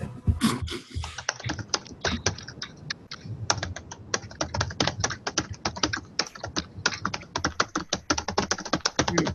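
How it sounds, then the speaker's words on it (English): Someone types rapidly on a computer keyboard in a meeting room, a dense run of crisp, close key clicks with short pauses, continuing steadily throughout. "somebody's a quick typer too"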